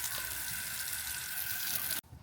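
Water is poured onto garden plants, a steady close rushing splash that stops abruptly near the end.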